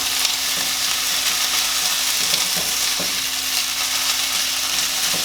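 Lit'l Smokies cocktail sausages sizzle and pop in a hot pan, a dense, loud, steady frying hiss up close, with faint stirring clicks now and then and no voices.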